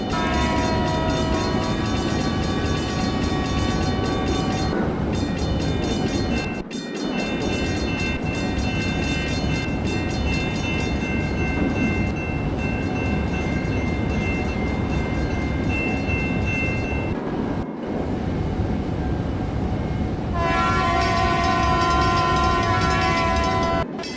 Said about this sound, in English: Now arriving on track 2 is an East Florida Limited northbound local service to Washington